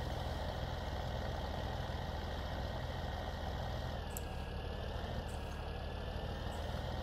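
A tractor engine idles in Farming Simulator 17, a steady, continuous mid-low drone with an even hum and no talking.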